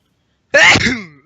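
A single loud, sharp sneeze bursts out close by after a moment of silence, trailing off quickly.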